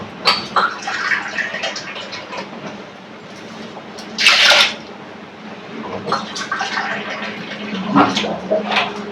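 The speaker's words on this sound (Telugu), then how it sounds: "పప్పులోకి కూరగాయల ముక్కలు వేసేలోపు ఒక టూ గ్లాసెస్ వాటర్ అయితే వేసి ఉంచుతాను" Water poured into a pot of washed dal in a home kitchen, a single brief splashing pour midway through, set against low background noise with scattered clatter before and after.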